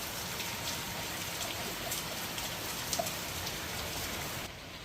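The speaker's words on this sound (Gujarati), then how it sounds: "ફૂલ વરસાદ ચાલુ છે." Heavy rain falls steadily in a village setting, a dense even hiss of drops on surfaces with a few louder nearby drips, fading slightly at the very end, and no one speaking.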